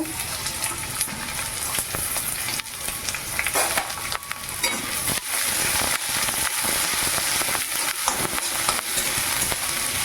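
Onions and spice pastes of ginger, garlic, turmeric, cumin and chilli frying in a pan, giving a steady, fairly loud sizzle with scraping stirs and occasional sharp spatters throughout.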